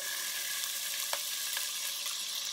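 Pancetta frying in olive oil in a pan over a flame gives a steady, dense sizzle with faint crackles and a few small pops, heard alone and close.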